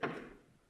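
A single dull knock or thud, close and faint, that quickly fades into quiet.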